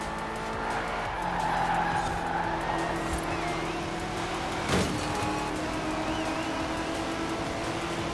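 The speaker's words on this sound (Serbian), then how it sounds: "Ne znam če se auto jače čuje, moj ili njihovo, pa moj naravno." Cars racing and skidding in the video game Forza Horizon 4, a continuous engine drone with tire squeal and a sharp bump partway through, steady and fairly loud.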